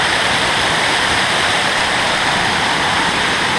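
Several small waterfalls on a river in a forest pour in a dense, steady broadband roar. It sounds close and continuous, with no voices over it.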